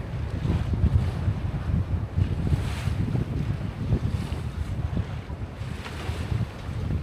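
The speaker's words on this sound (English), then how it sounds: "now there's big waves here" Strong wind buffets the microphone aboard a sailboat sailing solo with no engine on open sea, with big waves sloshing and surging against the hull in an uneven, continuous roar.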